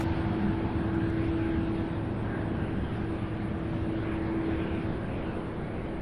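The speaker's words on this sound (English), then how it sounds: "Beautiful landing by Southwest." A Southwest airliner landing at Louisville International Airport gives a steady broad roar of jet engines, heard from moderately far with a constant tone and no voices.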